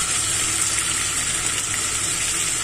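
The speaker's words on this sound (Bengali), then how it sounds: "এখন আমি কাঁচা মরিচ কেটে রেখেছিলাম সেটা দিয়ে দিচ্ছি" Chopped green chillies dropped into frying onions give a loud, steady, close sizzle that holds evenly throughout with no voices.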